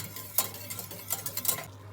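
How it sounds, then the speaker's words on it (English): Spoon stirring a chocolate coffee dessert mixture in a pot over heat, heard as soft scraping and clinking strokes in a steady rhythm, close and fairly quiet against a low steady hum. "we're going to continuously mix it until it starts to boil"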